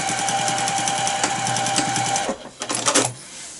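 Sewing machine stitching the nose dart of a fitted medical mask with a backstitch, a fast rhythmic mechanical chatter that runs steadily, then stops and gives way to a few short clicks and handling noises.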